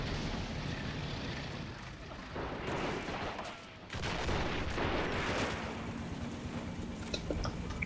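Artillery fire in a Men of War style multiplayer strategy match rumbles as dense, continuous battle noise with broad booming bursts, a brief dip near four seconds, and scattered sharper gunfire cracks layered on top throughout.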